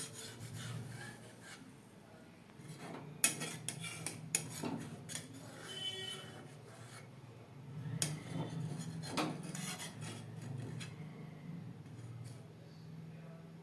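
A metal spatula scrapes clinging milk skin off the sides of a wok of simmering rice pudding, with repeated rasping strokes and occasional utensil clinks close up, no voices.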